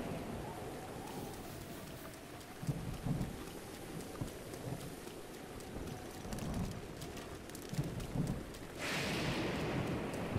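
Rain and thunder in the video game Zelda Breath of the Wild, steady soft rainfall with low rolling rumbles of thunder rising and fading, and a louder hiss of rain toward the end.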